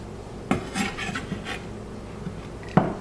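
A spoon being grabbed from among dishes and cutlery in a home kitchen, a few sharp clinks and scrapes of metal against crockery, close by, with quiet rustling between them and no talk.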